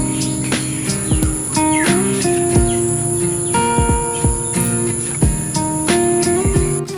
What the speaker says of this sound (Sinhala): මල් ටික කඩාගන්න එළයට යනකොට කුරුල්ලන්ගේ කීචි පීචි සද්දෙන් හිතම පිරීලා යනවා